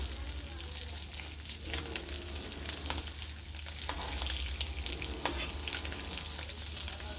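Eggs fry lightly in a pan with a soft, faint, continuous sizzle and occasional small pops and stirring scrapes.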